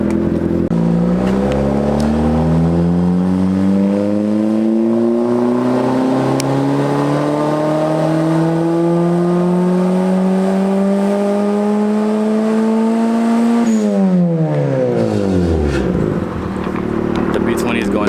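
A budget turbocharged Mazda Miata pulls hard on a street, its engine note climbing steadily through a long gear before a quick shift drops the revs and it builds again, loud and close with turbo whir.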